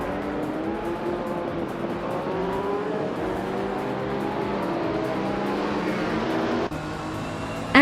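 A pack of race cars, led by a classic 1985 Lamborghini Countach, pulling away at a race start, a steady dense engine drone with overlapping revving tones, fairly distant and continuous, ending with a brief louder burst.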